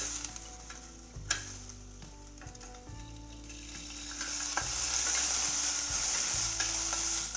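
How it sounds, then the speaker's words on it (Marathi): Val beans roasting in a little oil in a pan, with a bright close sizzle and repeated scraping stirs that swell louder toward the end. "आता मी वालही भाजून घेत आहे. थोडंसं तेल टाकून घेते."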